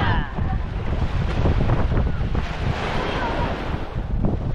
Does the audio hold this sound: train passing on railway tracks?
no